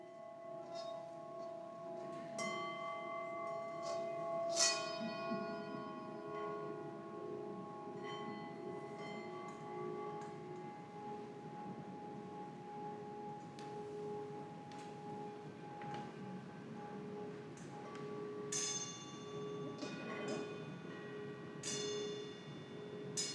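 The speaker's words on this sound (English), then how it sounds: "Ring and sing your bowls and bells." Singing bowls and bells rung one after another, each strike blooming into long sustained ringing tones that overlap and slowly fade, with a few brighter bell hits near the end, heard fairly close and without voices.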